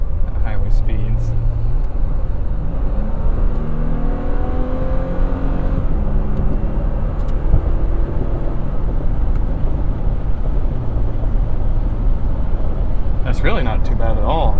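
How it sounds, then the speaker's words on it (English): Steady broadband wind and tire roar from a 2021 Toyota Tacoma on Hankook Dynapro AT2 Xtreme all-terrain tires cruising a concrete highway at speed, a constant droning hum from the cabin with brief low talk. "got a nice blending of wind noise and tire noise"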